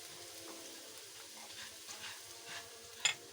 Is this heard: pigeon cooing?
no